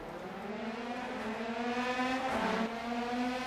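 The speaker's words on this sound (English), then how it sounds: "Engines are revving. We're underway from Montreal." F3 race car engines rev in a video game race start at Montreal, a loud droning multi-car roar whose pitch climbs and shifts as the pack gets underway.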